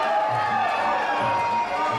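A packed fight-night crowd at the Caloundra Event Centre roars and cheers continuously, a broad distant wash of voices filling the arena at a steady level.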